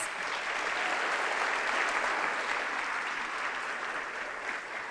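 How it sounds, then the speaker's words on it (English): An audience at a 2019 employee gathering gives a round of applause, dense even clapping sustained evenly for about five seconds with no voices above it. "Let's give him one more round of applause."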